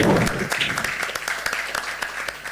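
Audience at a live leadership and networking podcast event clapping, a fairly close spattering of hand claps that thins out into scattered individual claps.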